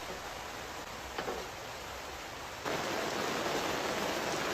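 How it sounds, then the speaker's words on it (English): Recorded rain plays back through a speaker as a steady, hissing broadband wash, growing noticeably louder partway through and then holding at that level with no talk. "just wanted to give the effect of the rain"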